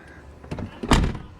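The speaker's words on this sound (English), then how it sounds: "Front door. Let's see how well this one closes." A front door on a Chevrolet Suburban swings shut, giving a soft swoosh and then one solid thunk up close, with no talking.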